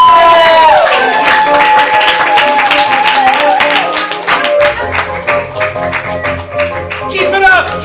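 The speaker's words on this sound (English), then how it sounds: "Let's call Amy back in the room by just lots of noise and applause." An improv comedy audience at ComedySportz Portland breaks into loud clapping and cheering, a dense patter of applause that swells after a whistle-like tone and carries to the end.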